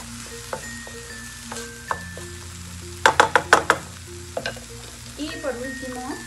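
Mushrooms for mushroom-and-mango tacos stirred in a frying pan, a steady sizzle broken by a quick run of sharp utensil scrapes and clacks against the pan, with softer stirring knocks afterward.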